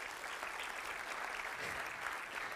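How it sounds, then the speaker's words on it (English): An audience claps steadily throughout, a dense, even wash of applause from a crowd, moderately loud and with no speech over it. "which I wish we could give another hand clap for them"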